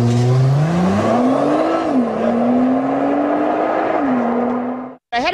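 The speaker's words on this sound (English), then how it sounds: "This is a performance vehicle that you could drive every day, and boy, does it sound sweet." A performance road car shown at the New York Auto Show revs loudly, its engine pitch climbing, holding, dipping and rising again over about five seconds before cutting off abruptly, with a brief whir at the end.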